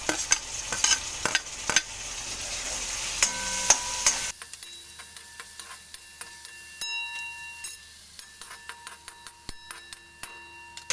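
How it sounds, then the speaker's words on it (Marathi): Chopped tomato and carrot cook in a pan, a brief sizzle at first and then quieter stretches broken by repeated sharp clicks and taps of a spoon against the pan. "त्याच्यात मी बारीक चिरलेला गाजर टाकते."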